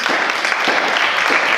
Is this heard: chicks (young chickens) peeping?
no